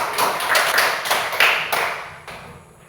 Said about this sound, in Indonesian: Tepuk tangan untuk Alvaro.